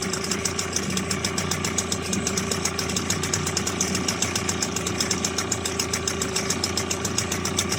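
A Mercury 5 hp long-shaft outboard engine runs steadily at idle after start-up, a continuous rhythmic chugging with fast regular pulses, fairly loud and close, no voices.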